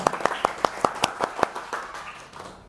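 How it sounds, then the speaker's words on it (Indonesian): A classroom group claps in a steady, evenly spaced rhythm of about eight crisp claps, then the beat breaks off into scattered murmuring. "Boleh tepuk tangan."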